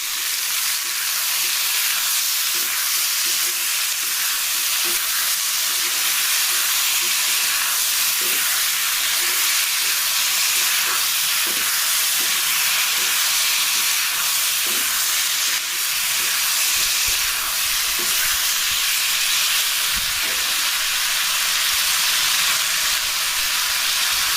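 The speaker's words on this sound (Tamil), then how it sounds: "உப்பு போட்டால் தக்காளி நல்லா வதங்கிடும்" Tomatoes sauté with salt in a pan while a chicken kulambu is cooked, making a loud, steady sizzle and hiss throughout, with occasional soft scraping as they are stirred.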